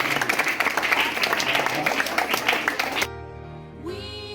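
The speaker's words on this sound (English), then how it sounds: "Let us give her a very big clap." Audience claps loudly for Madam Dana for about three seconds, then the applause cuts off abruptly and music with singing takes over.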